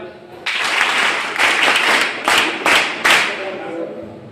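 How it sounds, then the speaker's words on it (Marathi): Students at a school talk on child-protection law clap together in a sustained round of applause lasting about three seconds, with the crowd noise swelling in a few louder bursts before fading. "सगळ्यांनी टाळ्या वाजवा"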